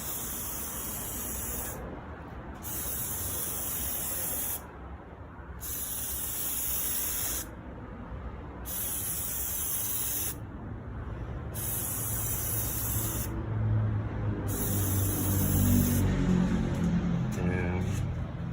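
Plasti-Dip from an aerosol can is sprayed onto Tesla Model Y emblems in long, steady hissing bursts separated by short pauses, close up, with a faint low rumble underneath.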